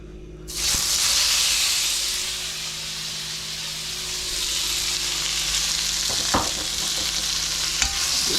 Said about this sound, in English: First thing we're gonna do is fry off our tofu.